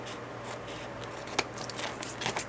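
Scissors trim the edges and top of a handmade shaker envelope card, giving a few faint, quiet snips against a soft background hiss.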